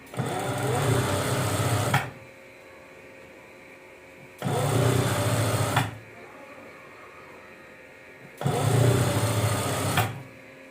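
A sewing machine stitching the inner parts of a maxi dress runs in three steady bursts of about two seconds each, with quieter pauses between them and a continuous mechanical whirr while it runs.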